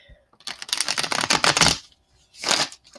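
Quick papery riffling of tarot cards being shuffled, a dense flurry of rapid flicks followed by a short second burst after a pause.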